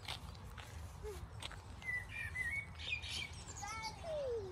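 Birds chirp and sing up in the trees of a quiet backyard-like setting in Daylesford, a few faint, scattered tweets and short whistled calls at a distance over soft background hush.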